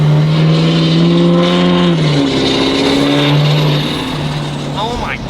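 A new tow truck's engine revs loud and close, its pitch climbing and dropping in long sustained pulls, with a hiss near the end.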